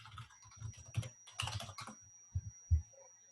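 Typing on a computer keyboard, with bursts of quick clicking keystrokes followed by a few isolated, louder key taps, close and clear with no talking.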